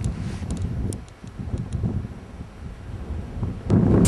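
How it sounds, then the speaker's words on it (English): Wind buffets the microphone in continuous gusts on the coast of the Cabot Trail in rain and sleet, a loud rumbling roar with faint ticks of precipitation and a stronger gust at the end. "it is raining and sleeting and windy as anything"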